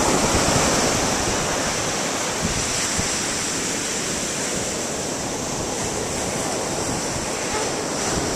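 Ocean waves break on a shore in a loud, continuous surf roar with wind buffeting the microphone, a steady wash that barely rises or falls, and no voices.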